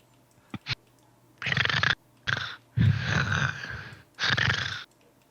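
A voice imitates snoring in a tabletop roleplaying session: two quick snorts, then several long, raspy, rumbling breaths separated by short pauses, loud and close to the microphone.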